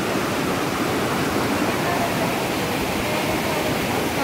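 Water flows in a steady, even rush over a backwater weir at Kainoor in Thrissur, Kerala, a close, constant wash of broadband noise with no breaks.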